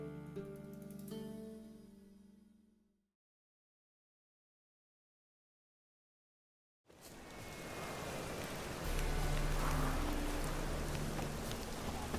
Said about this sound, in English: Rain like this would fetch a fortune in Zerrikania.